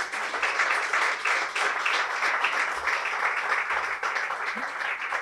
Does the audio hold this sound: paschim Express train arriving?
no